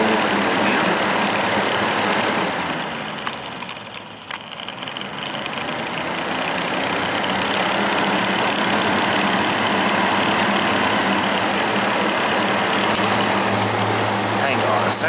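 A Breezeway MBF-907 9-inch box fan runs on medium, giving a steady, loud broadband whoosh of moving air with a low motor rumble underneath that holds nearly constant for the whole stretch, dipping briefly once.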